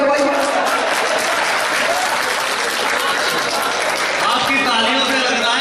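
A comic poetry recital audience at a Tilhar mushaira and kavi sammelan breaks into loud, dense applause. The clapping rolls on without a break and a speaking voice carries over it.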